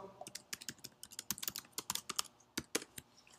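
Rapid, close computer keyboard typing as a username and password are entered, a dense run of crisp key clicks with brief uneven gaps.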